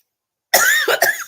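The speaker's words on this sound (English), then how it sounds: "And I start coughing." A single close, loud cough bursts out of silence, followed by a couple of shorter harsh coughs in quick succession, from a person with watering eyes while getting ready.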